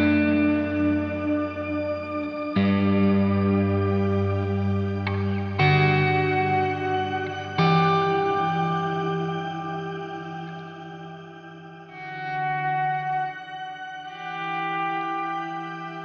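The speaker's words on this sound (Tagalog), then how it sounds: "Ito, naka-shimmer siya ngayon." Clean guitar chords ring through a Nux MG30 processor set to shimmer reverb, each strum swelling into a long, bright, octave-shimmering wash that sustains and overlaps, loud with no talking.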